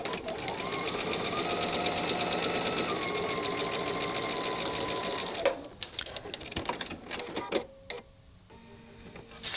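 A sewing machine stitches a quilt star-in-a-star block with a loud, steady rapid stitching hum for about five seconds, then slows into a few short bursts and clicks before stopping.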